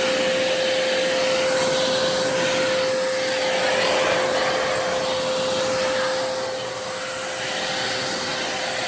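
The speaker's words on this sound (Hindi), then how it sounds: "और वैक्यूम क्लीनर के मुकाबले इसकी नॉइज़ बहुत ही लो है, बहुत ही कम है, तो बहुत अच्छे से सफाई कर रहा है" A cordless suction floor cleaner with strong suction runs steadily over a dusty floor, a loud continuous whirring hum with a constant tone, dipping slightly near the end, and no talking.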